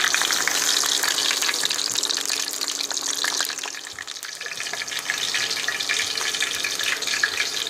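Beet cutlets sizzle steadily in a hot pan, a continuous crackling hiss that dips briefly midway and then resumes.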